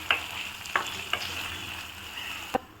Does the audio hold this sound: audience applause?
no